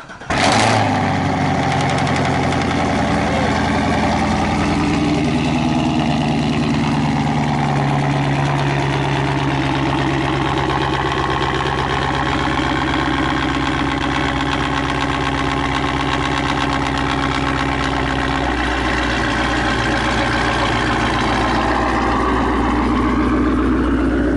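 Chevrolet Camaro ZL1 V8 cranking and firing up with a sharp burst, then settling into a loud, steady, deep idle that rumbles on close by, with a slight rise in revs near the end.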